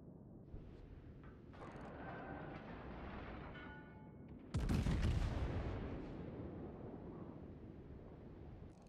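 Gunfire in a video game aimed at the player, a sustained rumbling barrage that swells into a louder, denser burst midway before tapering off, with no voices over it.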